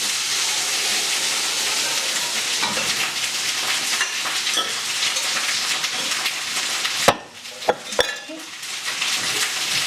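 Potatoes and stock poured into a cooking pot for rustic Provençal chicken soup, a steady loud sizzle and splash followed by a few sharp clanks of a utensil against the pot near the end.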